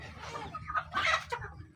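Backyard chickens in a small garden cluck in a short, close burst of several calls while being fed.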